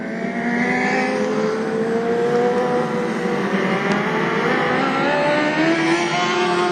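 Modlite race cars roar around Gympie Speedway at a race restart, several engines droning and rising together at a distance, loud and steady throughout.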